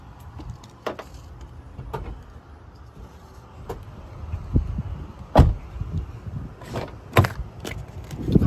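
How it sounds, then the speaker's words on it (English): The power liftgate of a 2009 Toyota Venza operates nearby with a motor whir, accompanied by repeated latch clicks and clunks, some louder than others, sounding over a quiet background. "Power lift gate."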